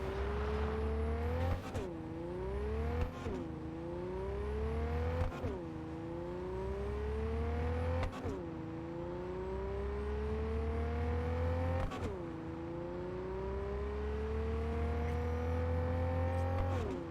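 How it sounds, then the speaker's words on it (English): A car engine in a racing video game climbing through the revs repeatedly, each gear change cutting the pitch briefly before it rises again, steady and continuous with no talk. "Ooh, nice car, this."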